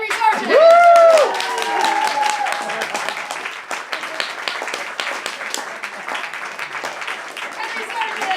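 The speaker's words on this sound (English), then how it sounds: "Please give a very warm round of applause to my friend Henry Seargeant." A comedy-club crowd applauds a stand-up comedian being introduced, with sustained clapping and a few whoops and voices over the top, loud and close at first and then continuing steadily.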